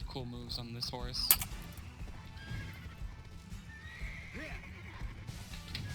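A horse in the online role-playing game Black Desert lets out a loud, stuttering whinny, followed by softer hoof clops and movement sounds under faint background game noise.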